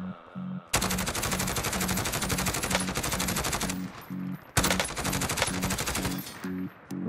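Assault rifle gunfire in the Modern Warfare battle royale video game, with loud sustained automatic bursts in two long strings separated by a brief break, backed by low rhythmic game sounds.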